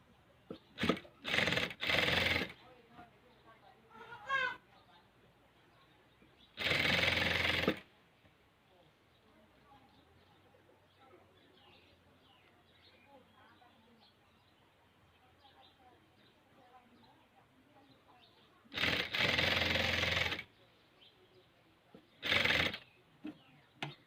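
A sewing machine stitches along the top edge of a homemade fabric apron, running in short loud bursts separated by quiet pauses.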